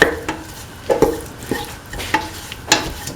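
A spoon stirs spices into a tomato, green peas and snake gourd stew in a pot, giving several distinct scraping knocks and soft sizzling between them, close and clear with no talk.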